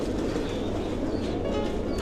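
Pigeons at a rescue shelter for injured and sick birds, being given water, make a dense, continuous low murmur of overlapping coos with no pauses.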